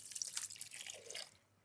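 White wine splashes into a cooking pot already holding salt and pink peppercorns, a short close pour of about a second that trails off into quiet.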